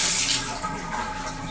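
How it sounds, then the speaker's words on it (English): Water running steadily from a Moen Posi-Temp shower valve turned fully to the hot position, a constant rushing hiss close by, heard alone without talk. "if we turn the handle all the way to the 9 o'clock position, we're getting hot water"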